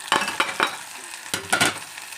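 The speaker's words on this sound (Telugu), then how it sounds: "తర్వాత ఒక 2 టమాటాలు వేసుకున్న చిన్నవి," Small tomatoes dropped into goat liver frying in a pan, with several short stirring scrapes and sizzling bursts in an uneven rhythm, close and moderately loud, with no talking.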